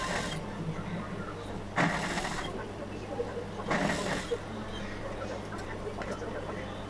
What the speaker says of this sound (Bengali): আবারও চাপ সেলাই দিয়ে দিচ্ছি।